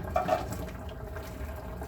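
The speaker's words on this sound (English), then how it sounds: "So I'm just going to pour out the hot water." Hot water from boiling rushes and splashes out of a pot steadily, close by, with a sloshing gush at the start settling into a continuous pour.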